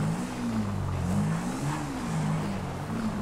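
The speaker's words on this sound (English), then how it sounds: "Driving a motorbike in first person." Motorbike engine in the video game Grand Theft Auto V, a continuous droning engine note that rises and falls slightly in pitch as it revs, steady and fairly loud with no talk.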